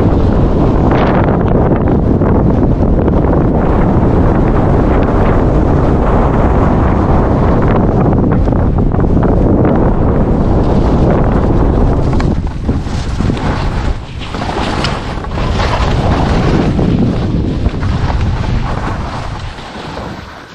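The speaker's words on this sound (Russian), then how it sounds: "тут подзадуло" Strong wind buffets the microphone on a mountain slope during a guided freeride ski trip in Jyrgalan, Kyrgyzstan, a loud continuous roar that dips briefly near the middle and then returns.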